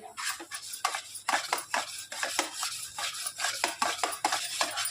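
Sugar being roasted in a kadhai with a spoon or spatula scraping quickly against the pan, giving a fast, steady run of close metallic scrapes and clinks.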